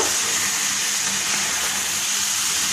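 Steady, dense crackling sizzle of raw minced-meat meatballs frying in hot oil, water in them adding to the sizzle, continuous and close, with no voices.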